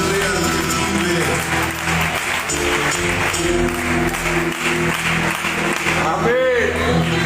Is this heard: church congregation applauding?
yes